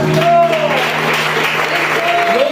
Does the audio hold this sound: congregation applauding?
yes